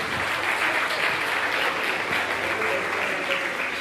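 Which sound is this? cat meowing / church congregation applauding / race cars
church congregation applauding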